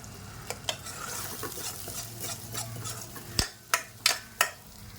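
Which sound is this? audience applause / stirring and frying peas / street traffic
stirring and frying peas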